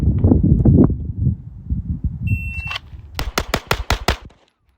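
Six rapid pistol shots fired in a quick string during a handgun drill with a Holosun SCRS micro optic, sharp cracks close together near the end, preceded by a brief burst of other sounds and a timer beep.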